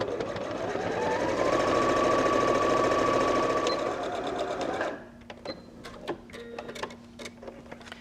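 A sewing machine stitches beanbag fabric, a loud close rapid whirring chatter for about five seconds, then stops, leaving scattered light clicks and handling taps.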